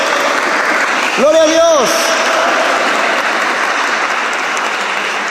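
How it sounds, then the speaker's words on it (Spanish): A church congregation at a spiritual seminar claps steadily and fairly loudly throughout, while a voice briefly calls out over the applause early on. "Denle un aplauso a la palabra de Dios."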